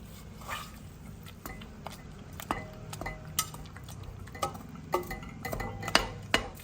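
A utensil works through cooked dal in a pot, giving soft scraping and squishing with sharp metallic clinks against the pot that come more often and louder toward the end.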